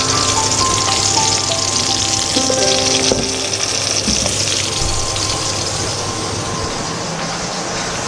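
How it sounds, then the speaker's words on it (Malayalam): Fish frying in a pan for a Sunday fish curry, a steady dense sizzle with crackling spatter running throughout, close and fairly loud, with no voices. "മീൻ ഫ്രൈ ചെയ്തുകൊണ്ടിരിക്കുകയാണ്"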